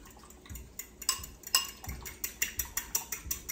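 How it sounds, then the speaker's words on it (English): Whisking a room-temperature egg in a bowl for muffin batter, a steady run of quick clinking whisk strokes against the bowl, close and light, with no talk. "I'm going to whisk my egg a little bit"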